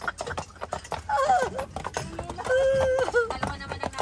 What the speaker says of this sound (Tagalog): Ang lalaki talaga nitong mga kabayo na yun.